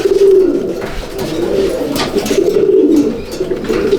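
Madras pigeons at a loft coo in low, throaty rolling calls, several overlapping phrases close by and fairly loud, with soft fluttering and faint background noise between them.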